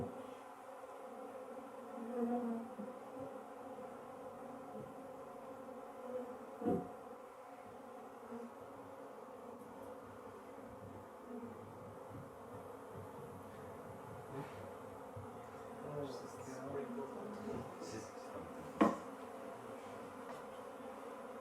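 Honey bees from a package colony buzz in a faint, steady drone with occasional louder passes near the microphone.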